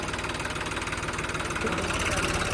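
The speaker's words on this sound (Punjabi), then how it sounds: "ਟਰੈਕਟਰ" A Massey tractor engine idles nearby with a steady, rhythmic diesel throb and knock, loud and continuous throughout.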